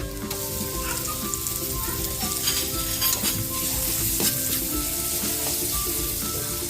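Garlic and onion sizzling in butter in a pan, a steady loud frying hiss broken by occasional stirring scrapes and clinks throughout.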